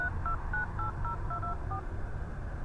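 Phone keypad tones beep out a number one key at a time, about eight short evenly spaced tones over steady background noise.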